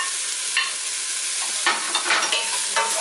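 Beef bourguignon ingredients (bouquet garni, mushroom stems, onions and bacon lardons) stirred in a hot pot, with a steady close sizzle and repeated scraping, stirring strokes and no voices.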